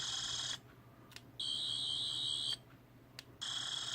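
A toy sonic screwdriver's high electronic tone buzzes on and off in three bursts, steady and piercing, separated by short quiet gaps with faint clicks.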